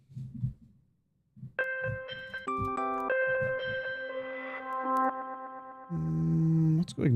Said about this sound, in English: Let's go bell.